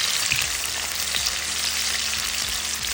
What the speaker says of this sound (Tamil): வெங்காயத்தை சேர்த்து வதக்கிக்கலாம்.